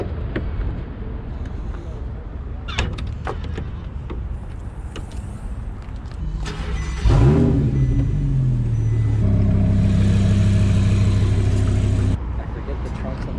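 Audi R8 sports car engine cranking to life with a sharp rev, then settling into a steady, fairly close idle hum while faint voices carry on nearby.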